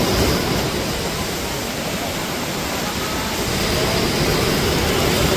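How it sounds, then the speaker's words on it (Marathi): A river swelling in a sudden flood, a dense continuous roar of rushing water, loud and close, with no talking over it. "नदीला अचानक पहा किती भरभक्कम पूर आलाय"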